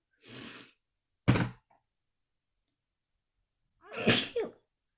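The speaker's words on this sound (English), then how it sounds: "I have to sneeze" Two sneezes with a pause between, the second a loud burst followed by a short catch of breath, close and alone in a quiet room.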